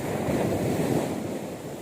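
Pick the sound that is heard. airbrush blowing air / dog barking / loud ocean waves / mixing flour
loud ocean waves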